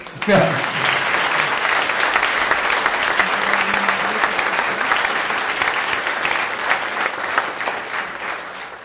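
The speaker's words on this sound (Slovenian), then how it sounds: "Ja, en aplavz še za njega." A full audience applauds an honoured guest, producing continuous, evenly loud clapping that fills the room for nearly nine seconds without letting up.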